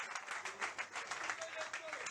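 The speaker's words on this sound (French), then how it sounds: "S'il vous plaît, qu'on applaudisse." Audience at a community association event giving a round of applause, quick irregular clapping at moderate distance, fairly faint, with some voices mixed in.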